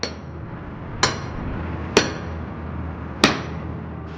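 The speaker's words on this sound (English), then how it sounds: "It's great to see these guys whacking away with these big hammers, the explosive force that they're using to drive in these great big spikes" Big hammers driving six-inch nails into wooden boat planks, ringing out as three sharp, loud, separate blows spaced about a second apart against a steady low background rumble.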